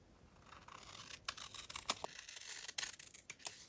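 Scissors snip through paper on a craft table while making junk journal folios, a handful of quiet, irregular crisp cuts and rustles spread across a few seconds, close and soft.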